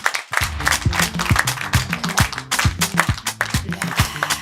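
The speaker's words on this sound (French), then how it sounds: "On applaudit très très fort pour Garibou Fama" A studio audience claps for invited guests on a Bamako talk show, a quick, dense patter of hand claps over a low musical background.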